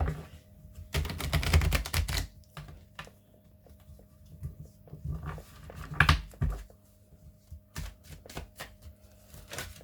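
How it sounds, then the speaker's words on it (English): A deck of tarot cards being shuffled, with bursts of riffling and flicking clatter coming close and fairly quiet, separated by brief pauses, and no talking. "I only take cards that flip out as I'm shuffling"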